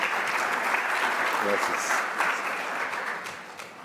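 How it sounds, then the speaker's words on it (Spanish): Audience at a regional religious freedom symposium in Argentina applauds as a speaker is welcomed to the podium, steady clapping filling the room for several seconds, with a brief spoken thank-you rising over it. "la recibimos con un aplauso"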